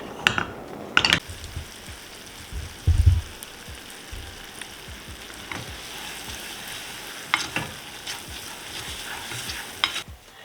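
Chopped nuts and sugar heating in a pan for a crunchy walnut topping on a no-bake Christmas Eve cheesecake, with a soft continuous sizzle and spoon stirring scraping now and then, a few louder knocks near the start.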